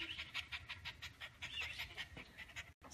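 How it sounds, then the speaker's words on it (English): A small pet dog pants rapidly after a walk, quick rhythmic breaths very close up and fairly soft, held in someone's arms, with a brief gap near the end. "Somebody's a happy dog."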